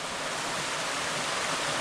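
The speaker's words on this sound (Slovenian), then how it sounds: "Kakšne čudovite kaskade so tole. Na potoku Istup." Water cascades down a clear mountain stream, the Istup, in a steady, full rush of broadband white noise that holds without pause, close by and with no voices.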